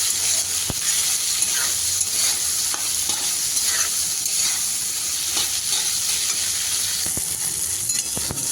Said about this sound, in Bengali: সব কিছুকে আমি হালকা লালচে করে ভেজে নিচ্ছি।